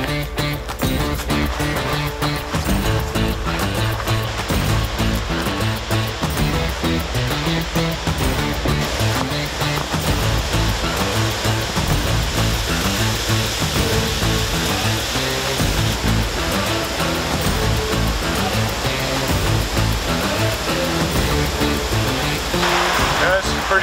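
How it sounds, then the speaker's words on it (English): Small waterfall at low water in Algonquin Park, a constant rushing, hissing pour of water heard up close, with a voice talking over it. "This is the smaller of the two waterfalls, and I think this is low water right now."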